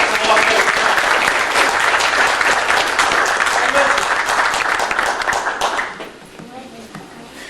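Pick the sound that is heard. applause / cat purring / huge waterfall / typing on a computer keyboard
applause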